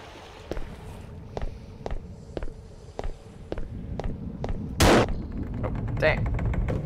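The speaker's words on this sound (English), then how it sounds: "we'll just shoot the key" A single loud gunshot fired at a key in the VR game Dungeon Knight VR, a sharp broadband blast standing out after a run of evenly spaced footsteps, followed by a fainter pop and ongoing game ambience.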